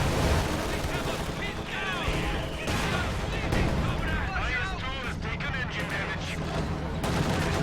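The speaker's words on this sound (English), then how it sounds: "It's an anti-tank strafe coming in on the IS-2." Anti-tank strafe run on an IS-2 heavy tank in Company of Heroes 2: a dense, continuous barrage of rapid gunfire and blasts with rumbling explosions throughout, a voice talking over the battle noise.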